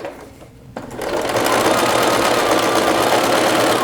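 A sewing machine with a quarter-inch foot and dual feed stitches fabric for a bias-cut dress, starting after a brief quiet moment and then running in a loud, steady, fast mechanical whir.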